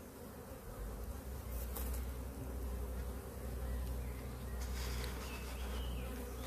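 Dense, continuous buzzing of many honeybees close by, a steady low drone with brief louder swells.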